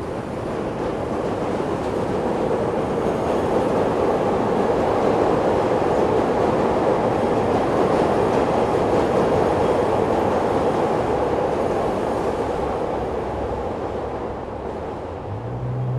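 A train rumbles past loudly, measuring about 100 decibels, a continuous roaring clatter of rail cars that eases slightly near the end.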